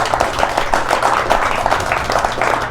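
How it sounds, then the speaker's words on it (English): Audience at a Las Vegas tech demo night clapping for a presenter, a dense, close round of applause with brisk overlapping claps, steady for a few seconds. "Round of applause for Josh"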